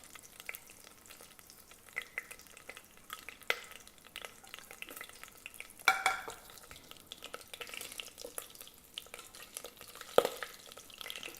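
Bay leaves and green chili frying in butter and oil for a chicken biryani, a soft sizzle running throughout with scattered clicks and scrapes of stirring, a couple of sharper knocks near the middle and end.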